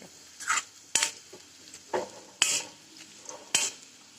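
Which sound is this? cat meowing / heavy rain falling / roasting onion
roasting onion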